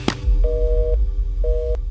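A click followed by two short beeps of a telephone disconnect tone, evenly spaced, clear and close.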